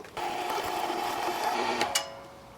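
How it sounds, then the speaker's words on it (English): An electric meat grinder with a small die runs steadily, pushing cold beef through in one pass for burgers, giving a continuous motor whine with a brief click near the end. "we go right into the old meat grinder here"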